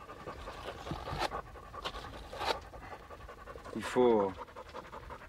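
A long-haired hunting dog pants in quick rhythmic breaths during a training session, close and moderately loud, while a person talks over it throughout.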